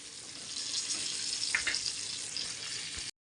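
Fish frying in a pan over a gas flame, a continuous close sizzle with a few faint clinks partway through, ending abruptly.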